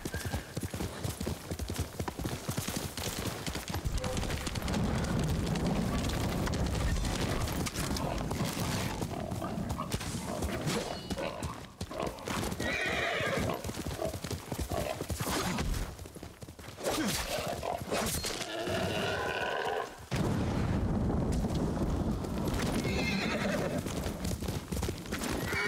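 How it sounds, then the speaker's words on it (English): Rhythmic horse hooves clip-clopping along with repeated whinnies and neighs, some louder and close, set against a busy soundscape in the video game Ghost of Tsushima Director's Cut. "You're a good horse, Kage."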